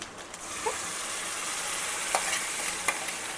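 Blended tomato hits a hot pan of butter chicken base, setting off a loud, steady sizzle and frying hiss with occasional stirring scrapes close up.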